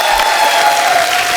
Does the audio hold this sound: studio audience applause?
yes